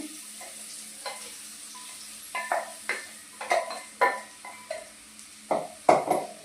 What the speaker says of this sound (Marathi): बघा मी आता हे समजा मिक्सर मध्ये बारीक करून घेतलेलं तेलामध्ये घालते.